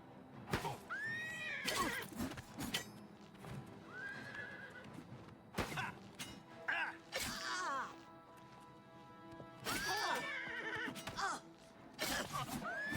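A horse in The Elder Scrolls IV: Oblivion Remastered gives several shrill, wavering whinnies spread across the stretch. Hoof clops and sharp combat thwacks and crashes land in between.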